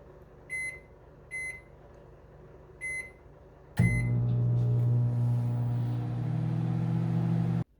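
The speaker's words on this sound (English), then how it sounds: "See if we'll bring a cup of water to a boil in 2 minutes." A Commercial Chef microwave oven heating a cup of water gives three short keypad beeps, then starts with a thump into a loud, steady droning hum with a whirring fan that runs until it cuts off.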